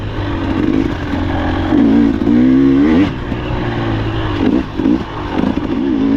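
A Husqvarna TE 300 two-stroke dirt bike ridden on a trail, its engine droning loud and close with wavering revs that rise and dip as throttle changes, nearly continuous throughout.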